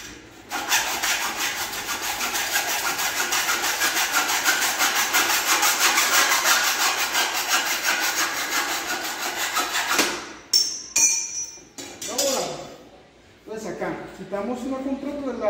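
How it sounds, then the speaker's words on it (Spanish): A hacksaw cuts through the threaded steel steerer tube of a bicycle suspension fork in steady, close, rasping strokes for about ten seconds. It then stops and someone talks. "Con esta pista vamos a hacer el corte para que nos quede parejo y nos quede exacto para la contratuerca que sigue"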